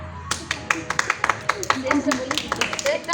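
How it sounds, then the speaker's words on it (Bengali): Hands clapping at a Rabindra Jayanti celebration, a run of sharp, fairly regular claps from a small group rising over singing and voices, moderately close. "হাততালি দাও সবাই"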